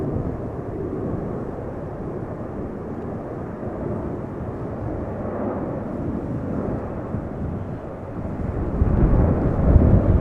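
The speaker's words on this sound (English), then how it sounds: "747 is departing to Shanghai from runway 24." Boeing 747 departing Amsterdam Schiphol from runway 24, a continuous deep jet engine roar heard from a distance, steady and broad, swelling louder toward the end, with no talk.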